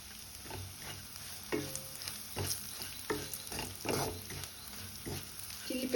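Curry leaves going into a pan of frying garlic chili paste, with a crackling sizzle and brisk stirring scrapes in quick succession, close up.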